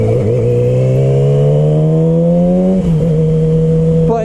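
A sport bike motorcycle engine drones loud and close while riding, its pitch climbing steadily, dipping briefly at a gear change, then holding a steady hum.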